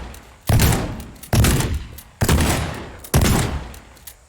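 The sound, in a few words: gunfire in the TearDown video game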